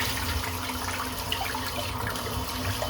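Running water from a tap rinses soap out of a shaving brush knot, a steady close splashing and trickling stream that continues throughout.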